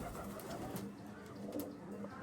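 Pigeons coo softly in low repeated bursts against quiet background noise, with faint rustling and no clear speech.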